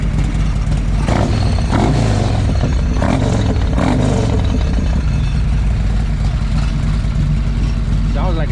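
A motorcycle engine idles after starting, a steady low rumble with a few bursts of louder revving early on, close by, with someone talking over the sound.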